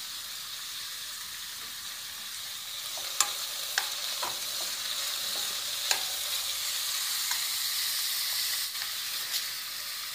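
Upma ingredients roast in a pan with an even, steady sizzle and hiss, broken now and then by a faint tap or scrape of a spoon; no voices.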